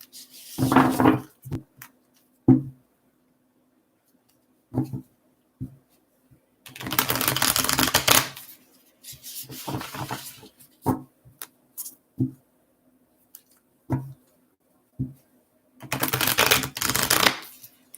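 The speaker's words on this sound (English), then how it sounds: "just a couple more shuffles here for Taurus" Tarot cards are shuffled by hand in several bursts of brisk riffling and sliding, close and crisp, separated by quiet pauses and small taps.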